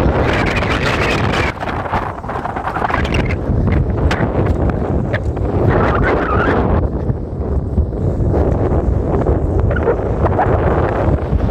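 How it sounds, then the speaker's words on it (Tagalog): Strong, steady wind roars and buffets the microphone without letup over open water, with a boat's motor faintly mixed underneath. "So malakas ang hangin mga kabosing."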